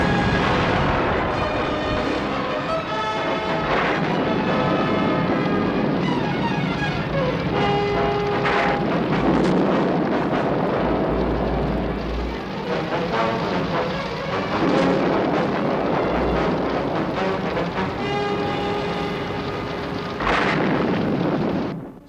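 Loud, sustained roar of a burning city with rumbling blasts and crashing explosions in the Thunderbirds puppet series, a dense wall of fire noise and booming impacts running throughout without letup.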